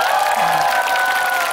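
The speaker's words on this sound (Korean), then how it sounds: "우리 포머스 그룹한테 큰 박수 한번 보내주십시오" Audience applause for a performance group at an outdoor concert, dense, steady clapping with crowd noise throughout the short burst.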